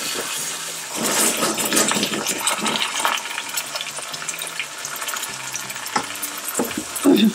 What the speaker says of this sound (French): Donc on laisse griller pendant 10 minutes environ, il faut remuer entre temps.